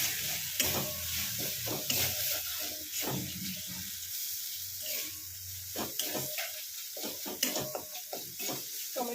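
Tomato masala being sautéed in a pan until soft, with a hissing sizzle broken by repeated spatula scrapes and stirring knocks at an uneven rhythm.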